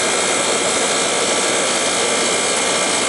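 A vintage GE General Electric air conditioner's PA240M2C-3MTU2 air compressor runs with a loud, steady, broadband hum and whoosh that holds constant throughout, with no talking.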